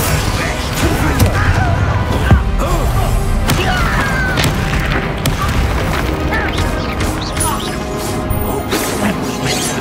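Spell explosions and combat impacts from the Hogwarts Legacy video game on Xbox Series, a dense, loud barrage of booms, crashes and thuds running continuously throughout, mixed with voices speaking.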